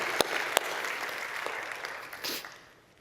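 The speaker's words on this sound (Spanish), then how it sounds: "Te aplaudimos a ti, Padre." Church congregation applauding the Lord, a dense continuous wash of clapping with a few sharp louder claps standing out, gradually thinning and fading near the end.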